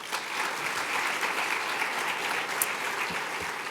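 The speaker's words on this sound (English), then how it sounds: "Please help me welcome them with a warm round of applause." Audience applause at the 2024 Common Good Awards ceremony, a steady, dense wash of many hands clapping throughout, moderately distant and even in level.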